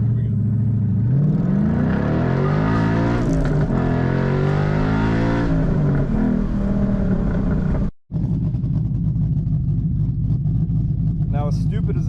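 A 5.0 S197 Ford Mustang GT fitted with a Flowmaster aftermarket axle-back exhaust revs up and down loudly and up close; after a brief cut, a gritty idle rumble continues.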